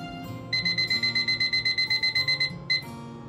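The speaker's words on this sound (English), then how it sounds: "Set this timer for 18." A kitchen timer being set for baking salmon gives a rapid run of about fifteen sharp, evenly spaced electronic beeps, then a brief pause and one more beep, loud and close.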